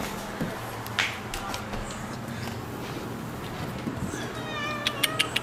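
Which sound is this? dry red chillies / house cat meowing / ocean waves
house cat meowing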